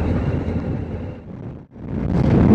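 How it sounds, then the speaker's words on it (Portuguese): Wind buffets the microphone while a rider cruises on a Suzuki V-Strom 1050 XT motorcycle, a loud, close rushing roar that briefly dips almost to silence before surging back stronger. "eu tô ouvindo bastante barulho do vento"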